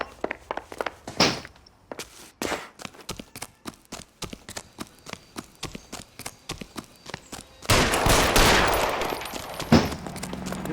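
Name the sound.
gunfire in a police shootout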